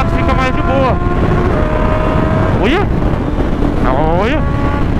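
A Honda CB1000 motorcycle's engine revs climb and drop several times as it accelerates and shifts gears. Heavy wind roar buffets the microphone, and a rider speaks briefly.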